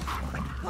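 A dog barks in the video game The Last of Us Part II, giving a short, fairly loud yip over a dense, murky background of game ambience.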